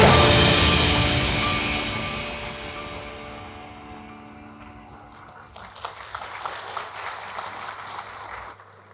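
Applause at the opening ceremony of the 9th Indonesia International Geothermal Convention and Exhibition 2023, starting under a fading loud ringing tone and growing into scattered clapping from the audience.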